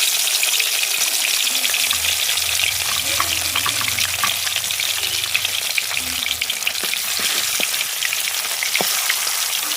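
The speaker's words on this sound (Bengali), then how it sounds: "মাছটা দিয়ে দেব তেলে ভাজার জন্য।" Rohu fish fries in hot oil with a steady, close sizzle broken by scattered sharp crackles and pops, over a low rumble and without any talking.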